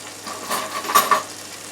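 Oil sizzles and crackles in a frying pan during a chicken and vegetable stir fry, a soft steady hiss with a couple of brief pops.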